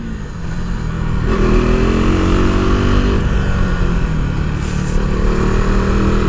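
A KTM RC390 sports motorcycle accelerates hard in second gear. Its single-cylinder engine note climbs steadily and loudly, close to the listener, for the full stretch with no talk.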